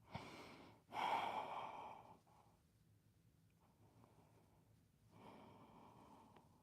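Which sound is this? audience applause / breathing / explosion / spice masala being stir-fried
breathing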